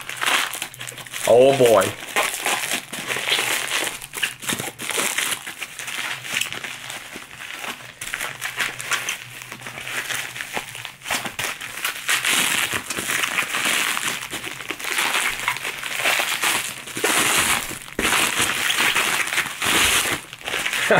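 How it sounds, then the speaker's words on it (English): Plastic packaging crinkles and crackles steadily as a Kohl's home scent candle is unwrapped up close, the rustling continuing throughout while a person speaks briefly near the start. "let's unwrap the other one"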